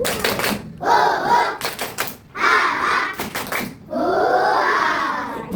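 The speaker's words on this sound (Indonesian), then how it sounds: "kita beri tepuk semangat dulu supaya kita belajarnya semangat, ilmunya bermanfaat" A school class performs rhythmic spirit clapping, quick bursts of claps in patterned groups mixed with children's chanting voices, loud and close, with short pauses between the phrases.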